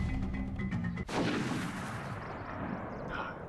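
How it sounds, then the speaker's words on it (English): A Kingdom Hearts video game plays a single heavy gunshot blast that booms sharply, then rolls into a long, fading rumble, preceded by a low tonal hum. "Gunshots to the west."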